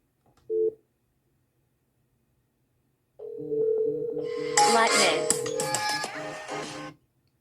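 A phone dialing out through a home FreePBX system: one short tone, a pause, then a steady stretch of layered call tones and beeps lasting a few seconds, close and fairly loud.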